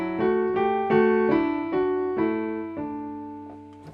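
A two-voice tintinnabuli texture in Arvo Pärt's style, one voice stepping along the scale while the other sounds tonic-triad pitches, played as clear, ringing, evenly struck notes that sustain and slowly decay, quiet and alone.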